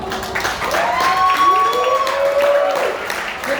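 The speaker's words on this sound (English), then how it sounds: "Let's give a round of applause more for Carolina" Wedding guests applaud after a speech at a reception, a steady wash of clapping with rising whoops or whistles layered through it, close and fairly loud for the whole stretch.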